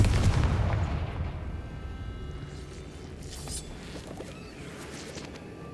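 A Confringo spell explodes in the video game Hogwarts Legacy: a loud, deep blast up close that rumbles and fades away over several seconds, with faint game ambience behind it.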